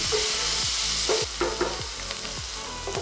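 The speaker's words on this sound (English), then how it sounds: "adding in the grinded onion, garlic and chili. Saute them." Ground onion, garlic and chili sautéing in butter in a pan, a dense continuous sizzle with rhythmic scrapes and knocks of stirring, no voices.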